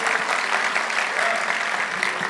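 Dense, steady applause from a large congregation at a worship gathering, broad and continuous clapping with no break, fairly loud and close.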